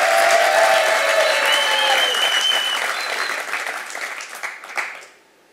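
A studio audience claps during a comedy show, a dense wave of applause that starts loud and thins out, with a few whistles and cheers on top before it dies away to near silence.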